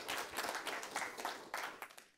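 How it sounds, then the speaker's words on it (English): Brief, fairly distant applause from a conference audience after a talk, with steady clapping over a couple of seconds before tailing off. "let's give Boris a big round of applause"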